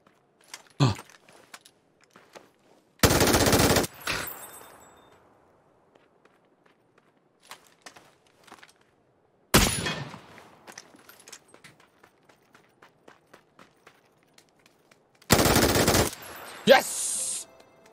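Three loud, short bursts of automatic fire from a gun in the game PUBG on the Haven map at night, spaced several seconds apart, with light footsteps and small clicks in the quiet gaps between them.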